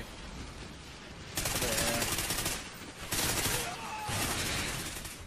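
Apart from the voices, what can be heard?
explosions and gunfire in video game Call of Duty Ghosts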